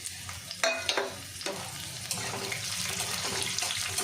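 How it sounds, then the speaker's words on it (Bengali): Dried and green chillies dropped into hot oil alongside roasting peanuts for lemon rice sizzle steadily and loudly up close, with a few stirring scrapes near the start. "শুকনো লঙ্কা আর কাঁচা লঙ্কাটা দিয়ে দিলাম।"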